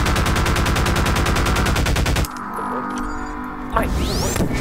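Rapid automatic gunfire in a Siren Head monster battle video game, loud and continuous for about two seconds, then a quieter pause with faint tones before another burst of shooting and a ringing impact.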